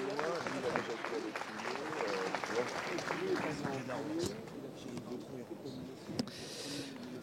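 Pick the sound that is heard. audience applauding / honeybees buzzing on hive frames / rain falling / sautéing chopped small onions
audience applauding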